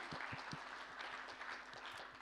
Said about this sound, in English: Let's clap for Enrique.